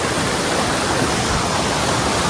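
A large waterfall near Hathni Mata temple in the Jambughoda area roars with a steady, dense rush of falling water, close and loud throughout with no break.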